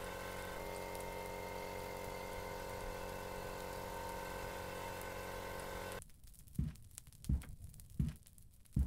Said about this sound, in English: Goddamn compressor!